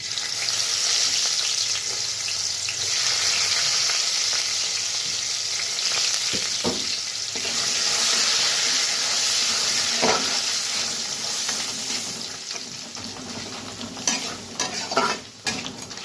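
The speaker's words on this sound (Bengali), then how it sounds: "ফোড়নটা কড়া কড়া হয়ে গেলে এক এক করে মশলাগুলো ছেড়ে দেব" Whole spices and joha rice fry in hot oil in a pan while being stirred for a potato and pointed gourd curry, giving a steady, loud, close sizzle with scraping stir strokes and a few clinks toward the end.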